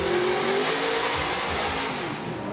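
A drift car accelerates hard at Formula Drift Long Beach, its engine roaring loud and close with a steady, strained note through the whole stretch and no talk over it.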